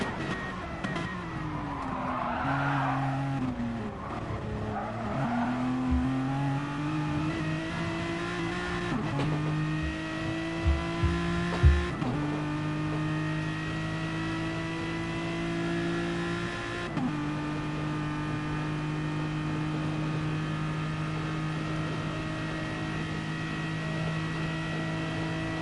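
A Toyota Supra GT3 race car in a racing video game at Le Mans holds a steady, high-revving engine drone on a straight, with several gear shifts that drop and then climb in pitch. No one speaks.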